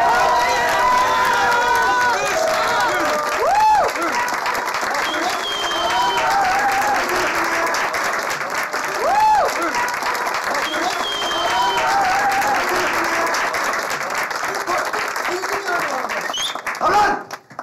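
Studio audience applauding a celebrity guest's arrival on a Turkish TV comedy show, with loud continuous clapping and crowd cheering throughout, swelling and easing near the end.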